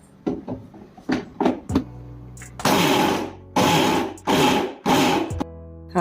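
Mixer jar grinding garlic, green chilli and coriander leaves without water, pulsed in several short bursts followed by longer loud whirring runs with abrupt stops between them.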